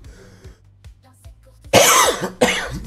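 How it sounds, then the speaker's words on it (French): A sick commentator of a Star Citizen space racing game coughs twice, harsh and loud close to the microphone, after a quieter stretch of game sounds. "Désolé pour cette toux."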